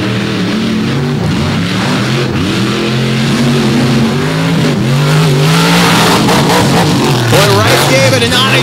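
Drag racing cars at Dragway 42 in Indiana, a loud continuous engine roar with rising and falling revs as the cars launch down the strip during a championship race, with an announcer's voice mixed in.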